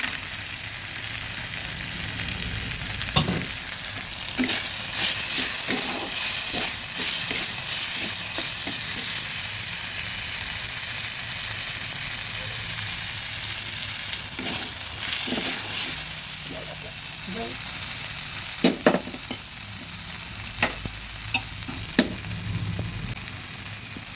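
Peanuts fry in a pan with softened tomato for a vegetarian cabbage curry, sizzling steadily throughout with intermittent scrapes and stirring clicks from a spoon, close and fairly loud, with no talking.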